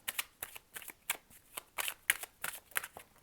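Playing cards being shuffled over and over in a steady rhythm of crisp, close riffles, about a dozen bursts in quick succession with no talking.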